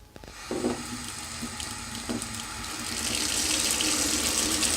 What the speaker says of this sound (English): let's just turn on the water